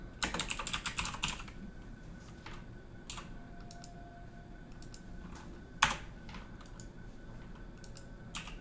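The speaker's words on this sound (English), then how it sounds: "I want to be typing here." Quick bursts of typing on a computer keyboard, dense clatter at the start, then sparse isolated keystrokes and clicks, close and fairly quiet, with no talking.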